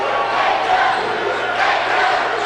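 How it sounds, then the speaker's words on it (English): Home crowd cheers and roars continuously at a high school Class 4A sectional semifinal basketball game between Alton and East St. Louis, a dense, loud sustained crowd noise filling the gym. "Hey, the home crowd's finally up and alive, huh?"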